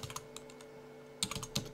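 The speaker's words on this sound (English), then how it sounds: "here I want to type in the text" Typing on a computer keyboard, with faint, close key clicks coming in short uneven bursts over a low steady hum, and no voices.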